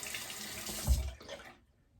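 Tap water running briefly over an aluminium safety razor as it is rinsed, a soft close splashing rush that stops after under two seconds.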